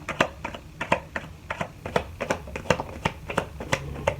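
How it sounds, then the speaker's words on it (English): Quick, crisp riffling clicks in rapid bursts as cards are shuffled up close, with short pauses between runs. "let's shuffle the deck and see what I get from my Cancer"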